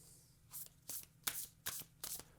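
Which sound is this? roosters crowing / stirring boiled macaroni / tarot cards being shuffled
tarot cards being shuffled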